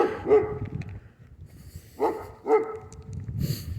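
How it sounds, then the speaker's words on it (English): A dog barks several times in sharp, close, loud bursts spaced about half a second to a second and a half apart, with a whimpering tone between barks. "that's why the dog barks at me."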